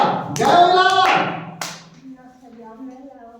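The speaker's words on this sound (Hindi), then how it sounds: "जोरदार ताली बजा दो" Children in a classroom clap together in a loud burst of applause for a classmate, the clapping fading under an adult voice speaking.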